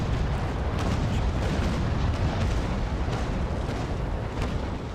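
Broadside cannon fire from sailing warships in the naval combat video game Naval Action, a dense, continuous rumble of booming shots blending into a steady roar for the whole stretch, with no talking.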